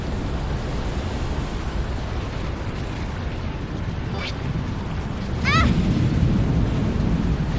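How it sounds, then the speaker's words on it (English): Running water in the video game Zanki Zero, a steady rushing wash that holds throughout and swells a little louder past the midpoint, with a couple of brief higher chirps over it. "Oh, that's water."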